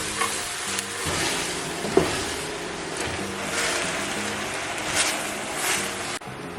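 Leeks sizzle and crackle steadily in a hot pan as they're stirred, a dense close frying hiss with occasional scraping clicks, and no talking.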